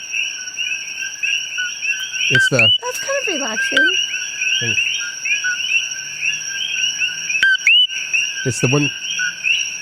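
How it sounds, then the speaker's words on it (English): Coqui frogs calling at night in Hawaii, a dense steady chorus of repeated chirps and croaks with occasional sharper beeping notes, while people talk intermittently over it. "There's a bunch of croaky frogs in there."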